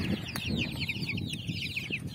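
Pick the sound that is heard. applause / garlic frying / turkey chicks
turkey chicks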